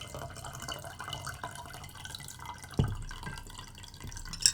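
Water running and dripping nearby indoors, a soft continuous trickle with scattered drips and one sharper splash, no talking.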